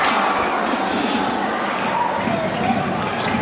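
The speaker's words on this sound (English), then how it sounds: "Now the crowd slowly getting into it, Migs." A crowd at an MPBL basketball game, Sarangani against Muntinlupa, cheers and murmurs in a steady, loud arena roar, with faint ball bounces and shoe scuffs mixed in.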